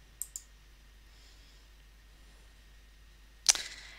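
Computer mouse clicks in a quiet room: a quick pair of soft clicks, then after a pause a single sharper, louder click, with no talking.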